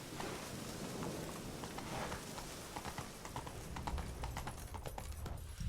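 Horse hooves clip-clop steadily across the ground in The Witcher 3 while rain patters throughout, with a faint roll of thunder beneath the footfalls.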